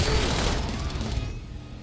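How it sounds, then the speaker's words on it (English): Dense rumbling explosions and a rattle of gunfire in a video game, loud and booming at first, then fading over a couple of seconds, with no talk over it. "there's just explosions everywhere"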